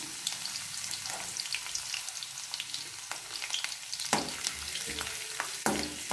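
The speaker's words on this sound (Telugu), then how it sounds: "ఇవి కొంచెం ఫ్రై అవ్వాలి." Shahi jeera, ginger and garlic fry in a pan with a quiet, continuous crackling sizzle, dotted with sharp pops and a few spoon scrapes against the metal.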